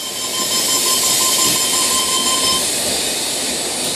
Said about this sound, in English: I'm going to film the doors closing.